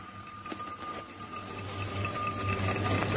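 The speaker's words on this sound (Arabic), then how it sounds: "نستعمل المروحة لعملية التبريد." An electric fan runs steadily while cooling a freshly reballed processor on a board, giving a continuous whirring hum with a faint tonal whine and slight rattle, close and gradually growing louder.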